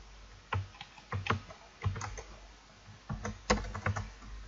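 C++ code typed on a computer keyboard in irregular bursts of quick, close key clicks separated by short pauses.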